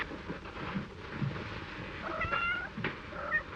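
A cat meows a couple of times, drawn-out and plaintive, against a faint room background.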